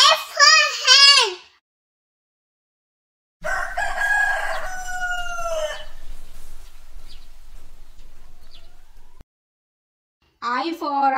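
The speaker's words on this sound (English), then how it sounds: "H for hen." Rooster crowing in a children's alphabet phonics song, preceded by a voice: one long, loud cock-a-doodle-doo close by, fading into a few faint clucks, then silence before the voice returns.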